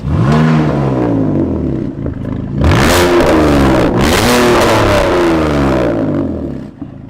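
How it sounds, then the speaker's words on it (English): Concept car engine revving hard, repeated rising roars with a whip-like sweep and deep growl, very loud and close, two big surges with a brief dip between, no talk. "It's got like a whip and then a deep growl."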